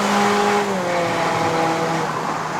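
2015 Toyota Corolla Altis 2.0V accelerating up a Genting mountain road in Malaysia, a steady loud engine drone with rising harmonic tones and faint tire noise, no talk over it.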